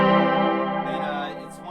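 Electric guitar through a light overdrive pedal giving a tough but not fuzzy tone: a single chord rings out and slowly decays, close and moderately loud, with a shimmering chorus-like wash.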